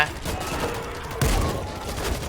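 Gunfire in World War Z crackles, then a sudden deep boom of an explosion hits midway and rumbles on under continued shooting.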